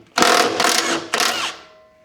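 Ratchet wrench clicking rapidly as it backs nuts off a flail mower, three close bursts of metallic ratcheting, loud and near, with no voices.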